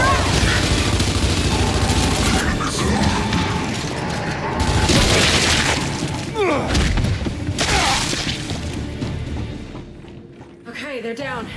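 A frag grenade goes off in a military shooter game amid continuous gunfire, heavy booms and thuds, with loud battle noise throughout and voices shouting over it.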